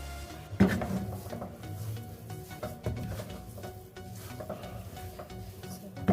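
Mukhadi halwa mixed with coconut powder in a pan, a spoon scraping and stirring through the thick mixture with soft, irregular strokes and a faint sizzle beneath, close and moderately quiet.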